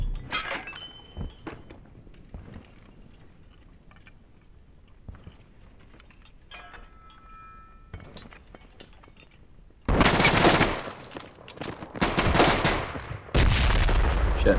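Gunfire and a grenade blast from the side-scrolling action game Broforce, bursting in loud and dense after about ten seconds of quieter scattered game noise, with sharp explosive crackle continuing to the end.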